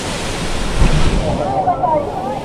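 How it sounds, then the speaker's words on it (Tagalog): A waterfall in Karanglan, Nueva Ecija, roars as a steady, broad rush of falling water, loud and close, with a voice speaking briefly over it. "Ganda ng falls."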